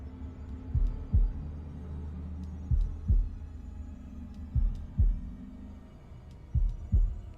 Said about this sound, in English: this is an insanely slow heartbeat, yeah?